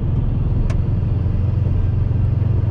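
Subaru WRX engine cruising steadily at speed in fifth gear, a continuous loud low drone with road rumble and no talk over it.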